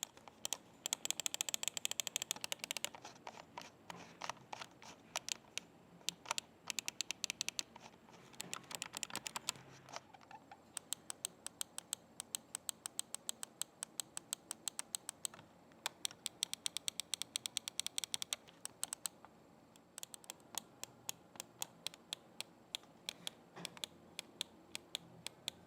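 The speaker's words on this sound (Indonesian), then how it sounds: "contoh suara dari switch yang ada di mouse Digital Alliance Sena Gaming Mouse" Switches of a Digital Alliance Sena gaming mouse clicking rapidly and repeatedly, close and crisp, in fast bursts separated by brief pauses, with no talking.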